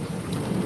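Thunderstorm with steady rain falling on surfaces and a low rumble of thunder, a dense continuous wash of sound with no voices.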